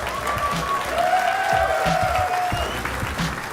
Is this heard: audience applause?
yes